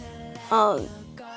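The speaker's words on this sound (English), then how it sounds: "Hi, kitty. My cat's just chilling here." A house cat gives a single short meow, close by and clearly heard, its pitch sliding downward, with quiet room background before and after.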